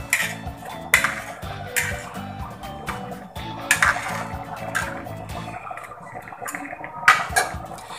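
Shrimp sinigang stirred in a pot, a spoon clinking and scraping against the metal several times while the broth sloshes, close and moderately loud.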